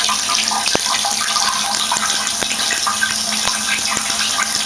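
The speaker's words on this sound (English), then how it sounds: "So here I am in the shower." Water from a bathroom shower pours steadily in a dense, hissing spray, with sharper droplet impacts ticking through it at close range.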